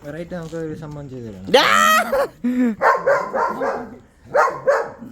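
A dog barks several times in short bursts amid Vishu festival firecrackers in Kerala, mixed with people talking nearby.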